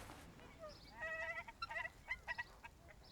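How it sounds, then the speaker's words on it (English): Ducks calling outdoors, a burst of faint quacking and clucking calls in quick irregular bursts, fairly distant and quiet over light background noise. "I think there are some ducks over there."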